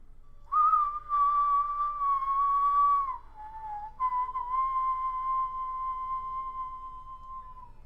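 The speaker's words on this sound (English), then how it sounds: "Ran out of breath on that whistle there" A person whistles a slow tune over Fire Emblem Fates video game, a clear, pure, sustained pitch holding long notes, with a brief dip and break before the final long note fades, close and prominent.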